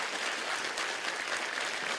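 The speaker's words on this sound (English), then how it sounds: "Give your artists a round of applause." A large crowd at BlizzCon 2017 applauds artists after a live 3D art and digital painting session, a dense, continuous roar of clapping that stays steady and loud throughout.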